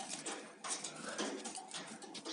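A small pet bird, kept indoors near a bird trap, makes faint soft cooing and fluttering sounds close by in a quiet room.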